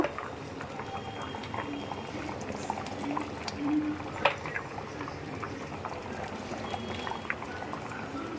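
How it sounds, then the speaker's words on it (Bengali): Khichdi boiling in a cooking pot with tomato added, a low steady bubbling with faint liquid sounds throughout, quiet and close, no speech. "আমার খিচুড়িটা ফুটে উঠেছে"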